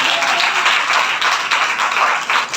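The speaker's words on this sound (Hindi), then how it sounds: "इस मरकज़ी आयत के लिए जोरदार तालियां" Church congregation applauding loudly after a scripture verse from Matthew 16:24, close, vigorous and continuous clapping with slight surges in intensity across the whole stretch.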